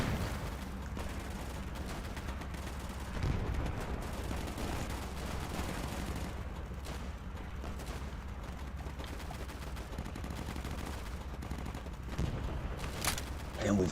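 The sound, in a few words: gunfire in video game Easy Red 2, France 1940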